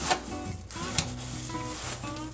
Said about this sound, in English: And now I'm just going to stir to combine.